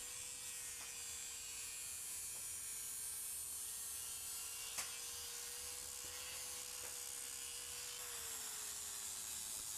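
A steady, faint electric whine of a power sander grinding against wood, continuous and even with a few small knocks.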